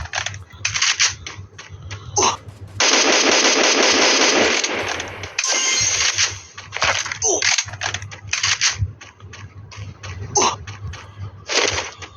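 Gunfire bursts and clattering weapon sounds erupt in the Free Fire video game, with rapid shot volleys between short pauses and a voice talking over them.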